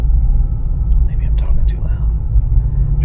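A car rolls over a rough, trail-like road, giving a steady, low interior rumble throughout, with faint soft voices over it.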